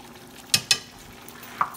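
Spoon stirring spiced chicken karahi with coriander, salt, black pepper and chaat masala in a pan, two quick scraping clinks close together, then a single brighter tap, over a faint background sizzle.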